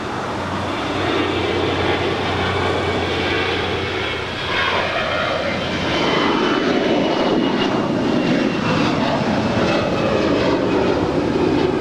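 An airliner takes off from the south side of Los Angeles LAX, its jet engines a loud, sustained roar with a low rumble that holds steady and strengthens through the climb.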